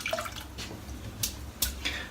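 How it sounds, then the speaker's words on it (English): A shaving brush dips into water with soft splashes and a few brief drips, close and quiet, in a wet-shaving setup before lathering a Lather Bros soap. "So let's get it dipped in the water."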